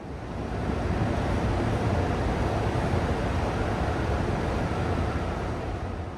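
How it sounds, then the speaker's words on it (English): Strong wind roars steadily across the microphone high atop the Shard skyscraper in London, a dense, rushing buffeting noise that fills the whole clip with no other sounds. "I must say, it's very windy up here. Here, have a listen."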